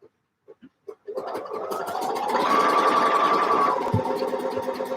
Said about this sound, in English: and then we'll get on with some sewing.